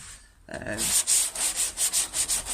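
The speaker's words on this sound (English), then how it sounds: "just keep blocking, keep sanding, just keep working that curve out" Body filler on a Peugeot 206 bonnet being block sanded, a short pause then rhythmic back-and-forth scraping strokes, close and steady, about eight passes in quick succession.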